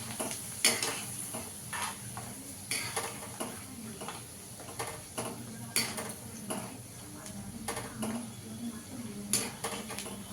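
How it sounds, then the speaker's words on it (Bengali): Chana dal (split chickpeas) frying in a pan for chanachur, with a soft steady sizzle under repeated clinks and scrapes of a utensil stirring against the metal pan. "এবার দেখুন ছোলার ডালটা ভেজে নেব।"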